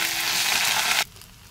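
Ginger paste sizzles loudly in a hot frying pan of oil while cooking a spiced meat curry, a dense steady hiss that cuts off abruptly after about a second, leaving faint quiet.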